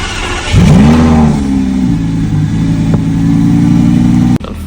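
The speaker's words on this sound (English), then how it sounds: "why not turn on the Lamborghini for a little bit?" A Lamborghini engine cranks and fires up with a loud, close roar, blips once, then settles into a deep, steady idle that runs on until it cuts off abruptly near the end.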